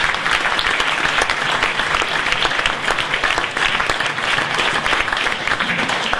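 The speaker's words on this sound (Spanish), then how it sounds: "Acá está Carlos Benítez, al que pido un aplauso porque hace un gran esfuerzo" An audience at a book presentation breaks into loud, sustained applause, a dense even wash of clapping that continues throughout with no break.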